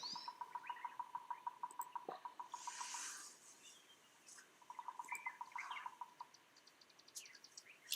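A recorded great horned owl call from the digital Wingspan board game plays as faint, rapid repeated pulsed notes in two bursts, with scattered softer chirps between them and no voices.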